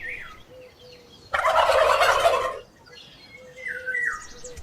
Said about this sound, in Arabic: ديك رومي.